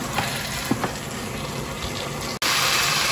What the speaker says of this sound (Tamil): ஸோ அதுக்கு வந்து 3 கப் தண்ணி ஆட் பண்ணுறேன்